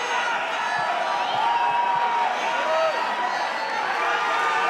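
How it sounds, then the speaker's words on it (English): An Irish crowd at a Muay Thai event roars and cheers, a loud, sustained din of voices and whoops filling the hall with scattered shouts rising above it. "Will we even be able to hear John O'Allman's introductions over this Irish crowd?"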